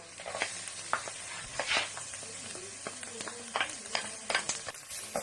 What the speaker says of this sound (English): so now our onions is nice and brown, so we can add our garlic now as well